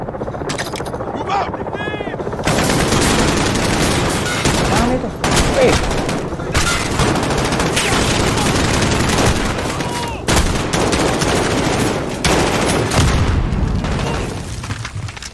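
Dense gunfire and booming explosions from the Call of Duty Modern Warfare video game, with rapid bursts and a helicopter-like roar, loud and continuous, while people talk throughout.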